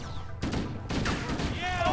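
Gunfire bursts from the Halo: Combat Evolved Anniversary Edition shooter: two loud sharp volleys about half a second apart, with game ambience and a short rising electronic whine near the end.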